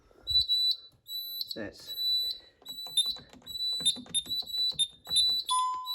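A shed fire alarm system on test sounds a steady, piercing electronic tone in repeated pulses, close and loud, while someone talks over it.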